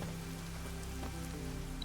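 Rain falls steadily in the video game The Witcher 3, a soft continuous patter over a low ambient hum, with no speech.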